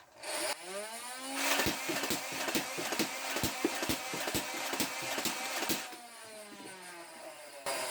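A Nerf Ultra Select blaster fires off a magazine of darts in a rapid burst of about a dozen sharp mechanical clacks over a whirring flywheel motor that spins up, runs loudly, then winds down.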